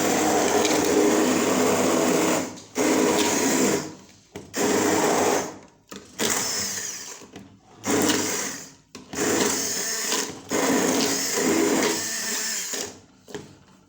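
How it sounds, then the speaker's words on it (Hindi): Kitchen juicer grinder blending chicken haleem ingredients, loud whirring motor run in about six bursts of one to two seconds each, separated by brief silences, with no talking. "अगर आप जूसर में डालना चाहते हैं तो जूसर में डाल लें"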